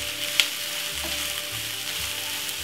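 Seasoning for escovitch fish sautés in a pan with a steady close sizzle and a brief tap near the start, no voices.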